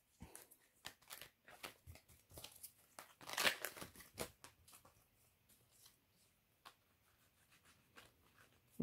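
A large oracle deck with many cards is shuffled by hand: quiet, irregular bursts of riffling and papery flicks come close up, with a few louder clusters in the middle and brief pauses between.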